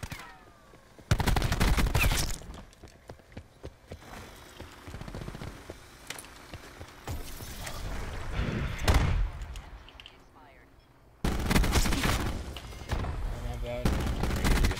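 Gunfire in the Black Ops 4 video game, with loud bursts of automatic fire at the start and end and scattered single shots and thuds between, mixed with a voice speaking.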